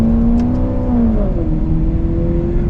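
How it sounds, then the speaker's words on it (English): A Maserati GranTurismo MC Sport Line engine revs with a deep, throaty exhaust note, rising and falling in pitch, loud and close with no talking. "It's one thing I do love about the Maserati. It has a wonderful exhaust note."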